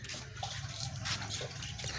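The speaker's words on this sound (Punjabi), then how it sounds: "ਹੱਥ ਧੋ ਲਾ ਨਾ ਜਿਹੜਾ ਪਾਣੀ ਹੈਗਾ ਉਹਦੇ ਨਾਲ।" Water pours steadily for washing hands outdoors in a village courtyard, a continuous close splashing gush with small spatters and no talk.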